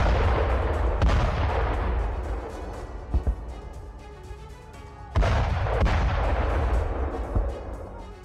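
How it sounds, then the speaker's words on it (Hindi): Artillery and gunfire from a Russian air strike bombardment in Syria: repeated heavy booms and sharp blasts over a continuous roaring rumble, with sudden loud bursts around the middle and toward the end, and no voices. "सीरिया में रूसी फोर्स की एयर स्ट्राइक, इदलिब और लताकिया में बमबारी"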